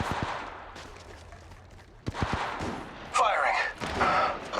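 Gunfire in the Apex Legends video game: sharp single shots and short bursts, with a brief flurry near the middle, then a fuller, louder stretch of game noise, with voice callouts over parts of it.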